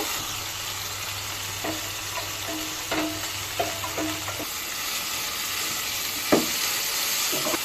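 Onion and garlic frying in a pan for a mashed taro-root bhorta, a loud continuous sizzle near the pan with a few sharp spatula taps and scrapes along the way.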